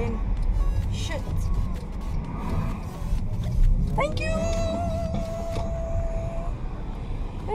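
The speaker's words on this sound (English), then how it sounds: "I'm driving behind a taxi right now." Inside a car driving behind a taxi in traffic: a constant low engine and road rumble, a brief sustained tonal beep partway through, and people talking over it.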